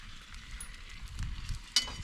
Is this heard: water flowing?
no